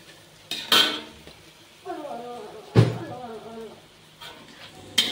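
Vegetables being stirred in a cooking pot for a white-stemmed mustard greens dish, with a few sharp utensil clanks against the pot and a voice talking between them.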